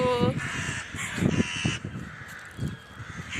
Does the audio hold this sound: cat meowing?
no